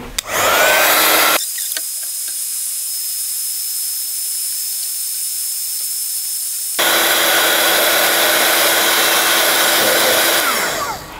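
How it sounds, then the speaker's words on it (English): A handheld heat tool blows hot air to dry a card before die cutting, a loud steady hiss that cuts out, pauses, then restarts close by. "I'm just gonna use my heat tool just to dry this before running it through the machine."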